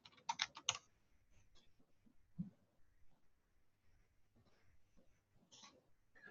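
Someone types a title on a computer keyboard: a quick, faint flurry of key clicks at the start, then scattered soft taps and another short burst later, in an otherwise quiet room.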